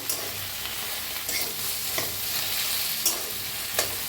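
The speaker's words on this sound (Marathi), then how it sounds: "असं हलवत भाजली म्हणजे जास्त चिकट बी होत नाही" Okra (bhindi) is stirred and pan-roasted for garlic bhindi, giving a steady soft sizzle with a few scattered scraping clicks of the spoon against the pan, close and fairly quiet, with no talking.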